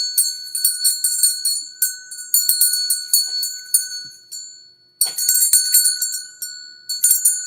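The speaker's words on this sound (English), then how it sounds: "I'm gonna ring my Christmas bell" A small Christmas bell shaken in quick bright jingling bursts, ringing close and loud with a sustained metallic tone, a brief pause, then another flurry of rapid ringing.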